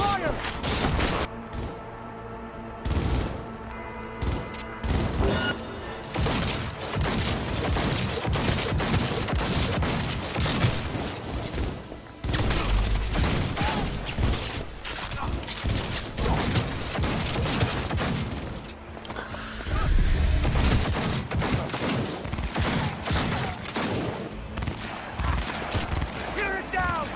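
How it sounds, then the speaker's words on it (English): Sustained gunfire in a Cyberpunk 2077 firefight, with rapid bursts, heavy impacts and crashes layered thickly over game music and occasional voices for the whole stretch. "They're here! They're opening fire!"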